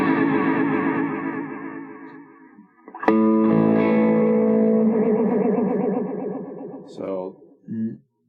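A Peavey Vypyr Pro 100 guitar amp with its modulation delay turned all the way up gives a loud, wobbly, echoing tone. Sustained notes waver and repeat for several seconds and end in short trailing bursts.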